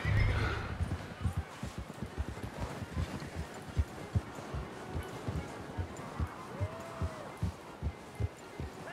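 Horse hooves clip-clop in a steady, close rhythm through Red Dead Redemption 2 game audio, with a short neigh near the end and a low ambient bed behind.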